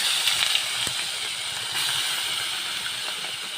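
Fish fry in hot oil with a continuous close sizzling hiss and a few sharp pops and spits, fairly loud and steady, without speech.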